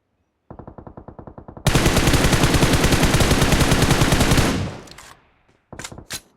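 Video game gunfire plays loud and close: a steady automatic burst swells into a dense roar of continuous shots, fades, then two short bursts follow.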